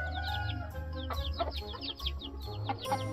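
Hens cluck in a straw-littered henhouse, a steady stream of short, near, overlapping clucks and chirps that keeps up for the whole stretch, with no one talking.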